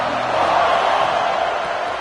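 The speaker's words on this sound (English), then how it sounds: "This crowd ready to make its presence known." A stadium crowd in a college football video game, Miami vs Clemson, gives off a steady, dense roar of many distant voices that holds at an even level throughout without any clear individual speech.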